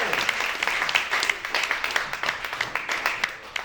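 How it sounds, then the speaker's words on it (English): Cabaret audience applauding after a performer's set, a brief burst of many hands clapping at moderate distance, fairly quiet and fading slightly. "let's give a round of applause for Kayla Nicole"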